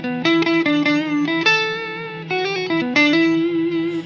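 Electric guitar notes played over a sustained drone held by a reverb pedal's freeze function, with clear, bright plucked tones stepping over the frozen wash and ringing out near and loud.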